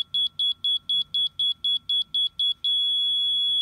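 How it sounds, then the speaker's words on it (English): A laser level receiver beeps in a rapid, even series of about a dozen short high tones, then settles into one steady continuous tone signalling level, clear and close. "So when it hits the blue, that beep, then you know you're good to go."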